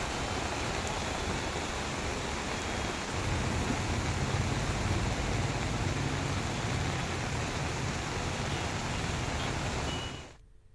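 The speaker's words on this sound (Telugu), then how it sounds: "మల్లంపేట ప్రాంతాల్లో వర్షం కురిసింది." Rain falls steadily in the Mallampet area of Hyderabad, a dense unbroken hiss that cuts off abruptly near the end.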